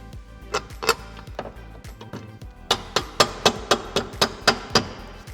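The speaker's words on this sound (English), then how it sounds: "Now when we're using this, we need to make sure we're using a soft hammer." A soft hammer taps a suspension pivot bush into a vehicle control arm: close, sharp knocks, first a few spaced hits, then a quick, steady series of about nine evenly timed blows.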